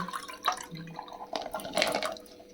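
Water holding soaked amla and shikakai is poured into a pot to boil, giving short splashing and dripping pours that are close, soft and uneven in intensity, with no talking.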